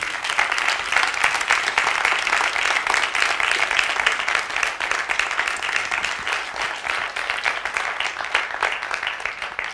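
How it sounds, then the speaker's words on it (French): A conference audience applauds at the close of a colloquium, dense steady clapping from many hands sustained throughout, loud and even, with no speech over it. "je vous demande de vous applaudir"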